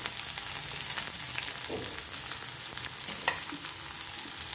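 Garlic fried until golden, with green chili added, sizzles steadily in a pan, the close, even crackle of hot oil running under a few light stirring scrapes.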